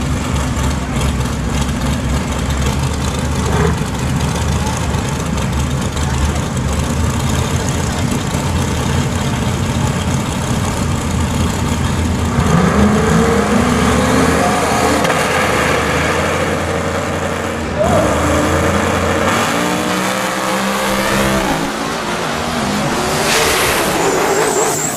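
A fast Ford Mustang drag racing car idles loudly at the strip at Bradenton Motorsports Park, with deep engine rumble and revving surges that continue throughout.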